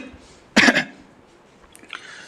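A single sharp cough or throat clear from a man who is lecturing, his throat dry from talking, followed by faint throat noises and a quiet lull.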